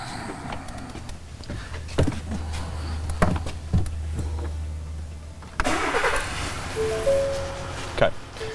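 A Ford F150 with the 3.0 Powerstroke diesel engine cranks and then starts, going from a low steady churning to a louder, rougher running roar. Voices talk over it close by.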